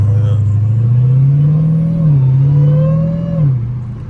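Supercharged Hellcat engine while driving, a loud, steady low drone that swells and dips with the throttle, with a thinner whine riding above it close to the cabin.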